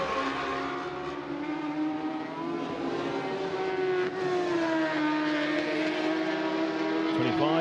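Suzuki racing motorcycle lapping the Macau Grand Prix street circuit, its engine holding a steady high-pitched whine that climbs and shifts as it passes, with a commentator talking over it throughout.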